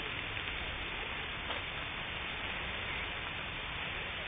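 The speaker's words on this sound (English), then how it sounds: "it's really raining now" Steady rain falls as a continuous even hiss, fairly faint and constant throughout with no talk.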